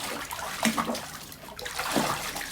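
A young child swims and splashes in a small pool set up on a home balcony, producing light, scattered splashes and water sloshing at close range, with soft intermittent bursts standing out against a steady watery background.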